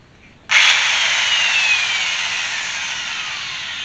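A power wire brush scrubbing old mortar and whitewash off stones at a 14th-century chateau kicks in abruptly, then whines and scrapes loudly and steadily up close, tapering slightly.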